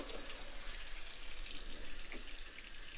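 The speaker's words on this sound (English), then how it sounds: "fully on and let the water run" Steady, close hiss of hot water running from a Kohler Coralais kitchen faucet turned fully on, pouring continuously into a sink with no talk.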